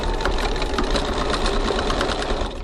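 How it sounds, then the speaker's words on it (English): A sewing machine runs steadily, stitching the sides of a fabric zipper pocket closed about 1 cm from the edge at a 2.4 stitch length, a dense continuous whirring drone with no pause and no voices. "now we're going to stitch the sides of our zipper pocket closed"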